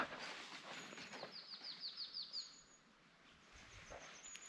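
A bird gives a quick run of high chirps over soft wind in a quiet rural setting by forest and stream in Muju, South Korea, with faint rustling afterward.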